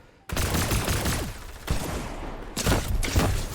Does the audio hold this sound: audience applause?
no